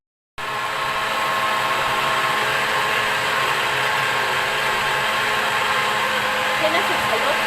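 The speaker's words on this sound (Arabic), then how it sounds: "هنا في الخلاط بقى حطيت اللبن مع السكر مع البرتقال على اساس السكر يدوب خالص في الخلاط" An electric blender runs with milk, sugar and orange inside, a loud steady high-pitched whir that starts abruptly and holds evenly for several seconds.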